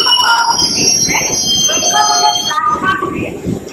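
Amaravati Express train stopped at a station: a steady rumbling hum with high metallic whines and squeals around the carriage, close and fairly loud, with indistinct station bustle and voices in the background.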